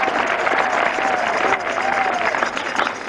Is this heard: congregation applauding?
yes